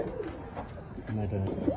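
Black racer pigeons coo softly nearby in low, throaty burbling calls at a pigeon farm in Mirpur, Dhaka, with faint background noise and no clear talk.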